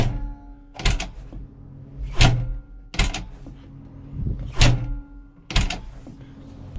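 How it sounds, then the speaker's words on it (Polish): A car door slams shut again and again, recorded up close: five heavy, sharp thuds at roughly one-second intervals, with low rumbling noise between them. "A my testujemy trzask drzwi, który mnie bardzo zawsze przy obróbce filmu, czy to w zetorze, czy tutaj irytował."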